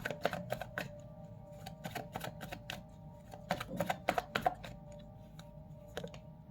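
Tarot cards being shuffled and handled during a reading, a quick series of close crisp riffles and taps coming in irregular bursts over a faint steady hum.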